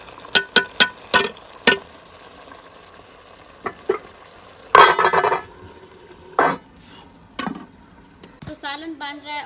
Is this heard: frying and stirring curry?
yes